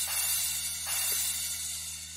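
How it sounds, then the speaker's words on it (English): A crash cymbal sample played normally in a music production session, sounding bright and washy, with two struck hits about a second apart and a long sizzling decay. "A lot more crashy."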